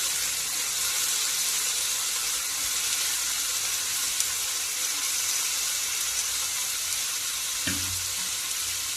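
Washed eggplant pieces hitting a hot pan, a loud steady hiss of frying that holds throughout with a brief clatter near the end.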